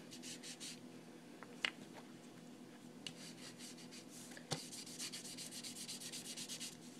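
A small sponge dabs steel blue Inka Gold ink onto a paper tag, giving soft, close rubbing and pattering strokes with a few faint taps and a faster run of dabs at the end.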